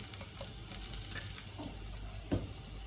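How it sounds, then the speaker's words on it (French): Garlic cooking in oil over high heat, a faint continuous sizzle with occasional soft stirring taps, close and without talk. "on laisse cuire l'ail un petit peu dans l'huile"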